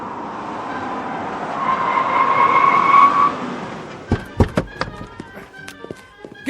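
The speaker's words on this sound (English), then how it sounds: "Unauthorized vehicle on field." A radio-drama vehicle tears across a field, its engine whining and rising before cutting off, followed by a burst of sharp skidding, knocking and clattering impacts.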